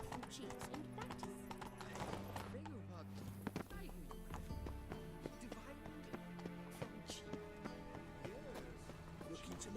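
Horse galloping in The Witcher 3, a steady clip-clop of hooves with an occasional whinny, running under game music and a voice talking.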